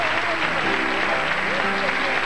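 A studio audience section applauds on a Valencian TV quiz show, a dense, even burst of clapping close and loud throughout, with a voice speaking over it.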